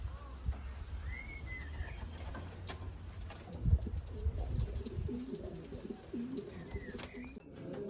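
Racing pigeons coo softly at a home loft, with faint low repeated coos and occasional whistling notes over a quiet outdoor background.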